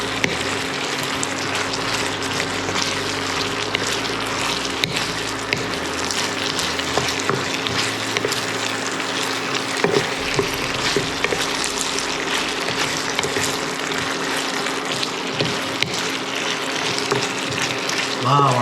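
Deep-fried pork chops tossed and stirred in a sweet and sour sauce in a pan, a steady wet sizzling and sloshing with faint scraping that runs continuously at moderate loudness.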